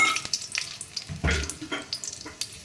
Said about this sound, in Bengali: ওই কড়ার মধ্যে এবার একটু আমি ঘি দিয়ে দিচ্ছি, অল্প করে একটু ঘি দিয়ে দিচ্ছি